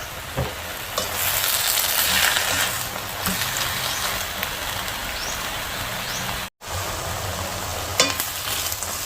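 Ingredients stir-fry in a pan with dried chilli, a dense continuous sizzle broken by spatula scrapes and taps, and one brief dropout partway through.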